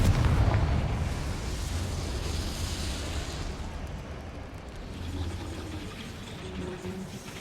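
Confringo fire spell blasting in Hogwarts Legacy, a loud broad roaring burst at the start that rumbles on and slowly fades, with a smaller flare of noise midway and no talk over it.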